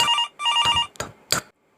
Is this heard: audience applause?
no